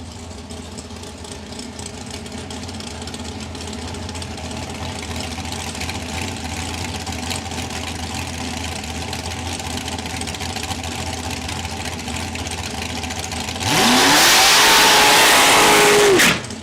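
Super Pro drag race cars making their final-round burnouts at Saskatchewan International Raceway, engines idling and rumbling steadily before one erupts into a loud, roaring rev with a rising tire-smoke hiss near the end.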